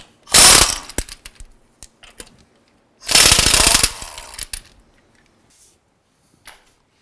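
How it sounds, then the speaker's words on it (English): Lug nuts coming off a 2006–2011 Honda Civic wheel with an impact wrench: two loud rattling bursts about a second each, separated by quiet, followed by small metallic clinks and a faint short buzz near the end. "remove these lug nuts and get the wheel pulled off"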